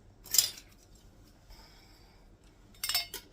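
Metal canning lids set onto pint jars of spicy black beans, two bright clinking, clattering bursts separated by a quiet pause, close up with no talk.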